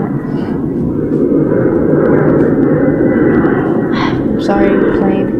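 An airplane passing overhead makes a loud, continuous low roar that fills the background while a person talks over it.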